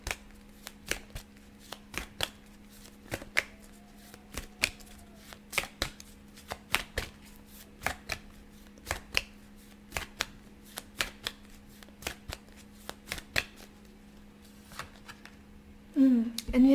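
Tarot cards are shuffled in repeated sharp riffling bursts at an uneven, brisk rhythm, close and fairly quiet over a faint steady hum, with a brief louder rustle near the end.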